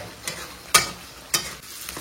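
Masala for matar paneer frying in oil, stirred now and then: a soft steady sizzle with three sharp scrape accents, the loudest near the middle.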